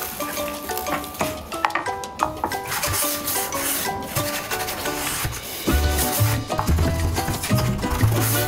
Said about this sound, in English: Sanding block here with the same paper on it.